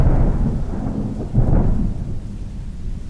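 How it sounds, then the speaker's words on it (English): Deep rolling thunder from a storm sound-effects library rumbles continuously, swelling once midway and then slowly fading, loud and heavy in the low range with no voices. "The Thunder Series provides a comprehensive selection of single cracks, rumbles, rolling thunder, and lightning strikes"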